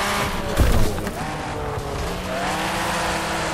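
A race car engine roars at high revs in the racing game Wreckfest, with a brief thump and a sustained whining drone.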